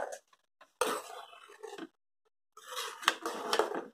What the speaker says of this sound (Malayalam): നമ്മൾ ഇളക്കിക്കൊണ്ടേ ഇരിക്കണം. നിർത്താൻ പാടില്ല, സ്റ്റോപ്പ് ചെയ്യാൻ പാടില്ല.